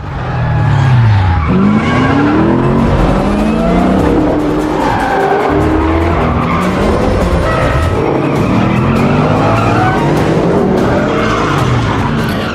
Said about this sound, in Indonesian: terjadilah aksi kejar-kejaran